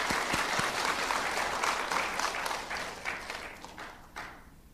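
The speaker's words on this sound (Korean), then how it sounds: "믿는 분만 하나님께 박수 한번 해보세요." A church congregation in Suwon applauds during a sermon, dense clapping that starts strong with a few sharp claps, then gradually thins and dies away.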